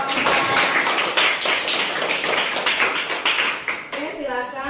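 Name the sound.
applause for the group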